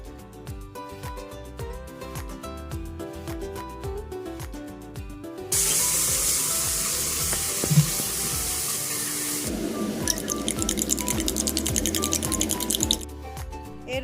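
Green chili, garlic and ginger paste fries with turmeric and salt for a festive curd-style katla fish curry, starting with soft stirring and then breaking into a loud hissing spray of sizzle that churns steadily.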